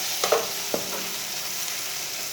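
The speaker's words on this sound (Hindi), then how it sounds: "बैंगन और प्याज को ना 2-3 मिनट के लिए फ्राई कर लेना।" Chopped eggplant and onion frying in oil in a pan: a steady soft sizzle with a couple of brief stirring scrapes near the start.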